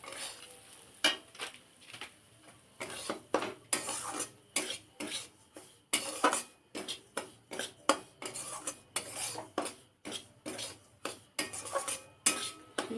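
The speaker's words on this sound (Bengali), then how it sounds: "সুজিটা দিয়ে ভালো করে ভেজে নিতে হবে।" Semolina fried in ghee in a metal pan, a spoon scraping and clinking against the pan in steady repeated strokes over a soft sizzle, close and fairly loud, with no voice.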